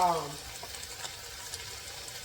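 Chopped onions sizzling as they hit hot oil in a pot for Tuscan white bean soup with Italian sausage, a steady close crackle and hiss after a brief voice at the very start.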